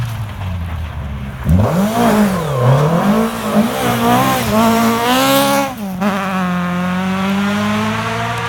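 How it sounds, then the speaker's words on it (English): A rally car on a stage of the Pirelli International Rally passes close by, its engine loud and climbing and dropping through gear changes, then settling to a steady high drone as it pulls away. "So here comes Matthew Robinson, car 2, first time out in the championship this year"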